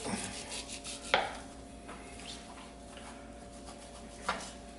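A knife slicing gristle and fat from a New York strip steak on a cutting board, with a few soft scraping strokes and two sharper cuts or taps, close and quiet with no talk.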